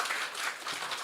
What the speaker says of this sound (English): Please give an applause.